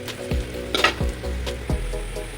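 Sizzling oil in an old, blackened kadai with a spoon stirring and scraping the pan in a few distinct strokes, loud and close.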